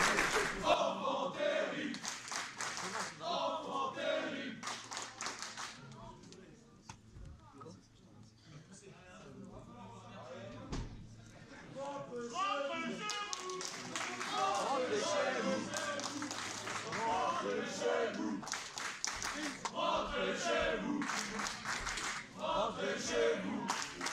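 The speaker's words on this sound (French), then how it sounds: "le public qui les applaudit comme il faut" Audience applause and cheering for players at a French event, a crowd clapping and shouting in waves with loud bursts, mixed with nearby voices talking over it.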